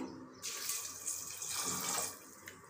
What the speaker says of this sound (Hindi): इसमें एक गिलास पानी डाल देंगे